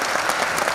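Applause from a film festival audience at an opening ceremony, steady dense clapping filling the whole moment, close and loud.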